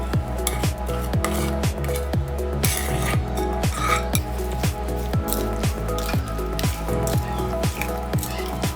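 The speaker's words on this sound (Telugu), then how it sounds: "మనం రెడీ చేసుకున్న పోపుని యాడ్ చేసుకొని మిక్స్ చేసుకుందాం" Wet squishing and stirring of thick mango pickle with tempering in a bowl, steady and close, over a constant rhythmic background.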